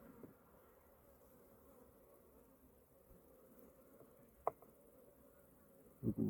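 A soft, steady honey bee buzz hums at a low level around a hive throughout, with a brief sharp tap near the end followed by a louder burst of buzzing.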